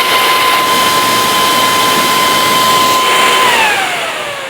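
A powerful 388-watt fan blowing over a Core i7-4770K processor, a loud, steady, jet-like whoosh with a constant whine that dips in pitch and fades slightly at the end as the fan slows.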